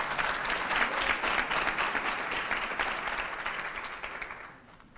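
An audience claps in a full, even round of applause that carries for several seconds and then fades away near the end, with no talking over it.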